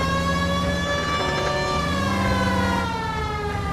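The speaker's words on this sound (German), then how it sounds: "Und wir machen auch mal die Sirene" A police car siren in the video game L.A. Noire wails steadily and loudly with a sustained, slowly shifting tone and no pauses. No voices are heard over it.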